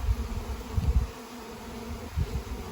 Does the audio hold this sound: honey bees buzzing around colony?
yes